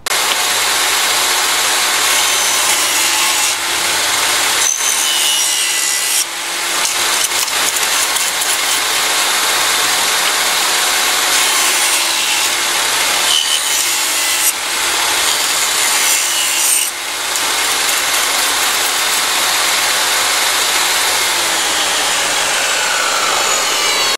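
Steady hand saw cutting through wood for a six-light cabinet door, a continuous rasping rub for over twenty seconds with brief dips between strokes, close and loud.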